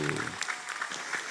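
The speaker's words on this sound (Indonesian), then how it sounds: "Tepuk tangan, tepuk tangan." Audience clapping at a Ramadan pre-dawn gathering, following a child's Quran recitation; a short, moderate burst of scattered hand claps with some voices mixed in.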